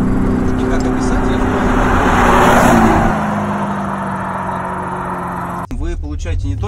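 A chipped BMW X5M 50d E70 SUV with a tri-turbo diesel accelerates hard, its engine droning and rising to a peak before easing off, heard from inside the cabin with someone talking over it.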